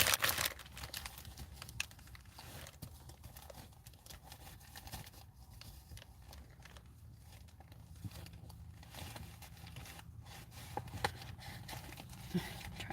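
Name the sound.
paper bowl packaging crinkling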